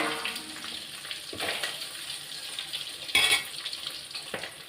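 Fish frying in hot oil gives a steady bright hiss with bubbling crackle, swelling briefly in a few louder bursts, close by and alone.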